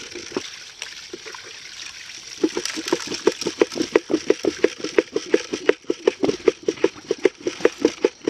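Water and gravel wash across the mat of a traditional gold cradle. The rocking and sluicing make a rhythmic series of close, distinct splashing surges and rattles that repeat over a continuous watery rush, with no talk.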